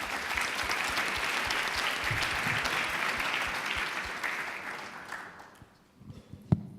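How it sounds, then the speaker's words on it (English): An audience at an aviation innovation pitch event gives sustained, dense applause that slowly thins and fades out over several seconds, ending with a few scattered claps. "Let's have a round of applause."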